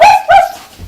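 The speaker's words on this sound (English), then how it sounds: "Barking, dog." A dog barks twice in quick succession, loud and close, followed by a short quiet low sound.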